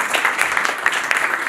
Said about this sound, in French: Madame Mouroub, qu'on applaudit très fort